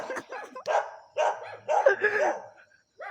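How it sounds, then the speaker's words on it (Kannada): A dog barks several times in short, uneven bursts, fairly close and clear, with brief pauses between barks. "ನನ್ನ ವಾಸಿಗೆಲ್ಲ ನಾಯಿ ಬೊಗಲ್ತುಂಟು"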